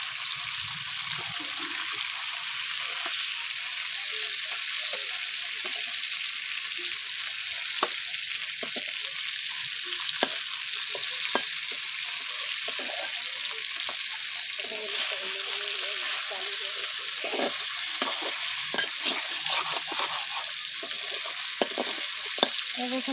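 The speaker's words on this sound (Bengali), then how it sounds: "দেখুন বন্ধুরা, মাছ ভাজা হয়ে এসেছে" Glass carp pieces fry in hot oil with a continuous hissing sizzle, broken by scattered clicks and scrapes from stirring, close by and moderately loud.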